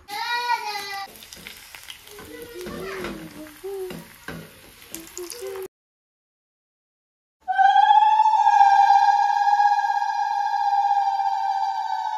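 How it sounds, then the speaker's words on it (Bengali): Papad frying in hot oil gives a crackling sizzle at first, then the sound drops out to silence and a steady electronic tone follows. "এদিকে আমি কটা পাঁপড় ভেজে নেব। তেল দিয়ে দিলাম।"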